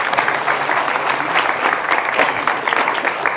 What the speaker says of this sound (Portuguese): Cadê a salva de palmas?